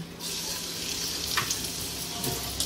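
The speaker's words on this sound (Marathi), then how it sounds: "तेल तापलंय आणि काकीने तेलात लसूण टाकली आहे पहिली" Steady crackling sizzle of garlic frying in hot oil, a continuous hiss with occasional brief pops, close up and without voices.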